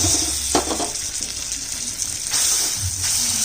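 Fish paste of taro leaves and shrimp sizzles in oil left from frying fish, a steady hiss and crackle with a few brief clattering stirs, close and without talk.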